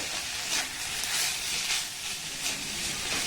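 Vegetables fry in a pan with chaat masala while being stirred, giving a steady close hiss and sizzle that swells gently every second or so as the pieces are moved.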